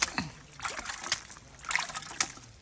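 Water is sprayed onto a freshly cut piece of honeycomb, giving several short, close splashy spritzes and trickles at an uneven rhythm.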